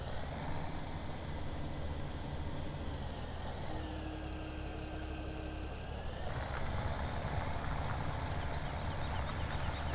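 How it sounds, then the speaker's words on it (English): A tractor engine in the Farm Simulator video game runs as a steady, droning diesel hum throughout, with a brief whine and a pitch shift partway through and no speech. "Let's jump on the tractor with him for a minute."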